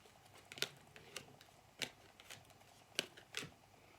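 Tarot cards shuffled by hand in a quiet room, four or five crisp, separate riffling bursts spaced about a second apart, close and fairly soft, with no talking over them.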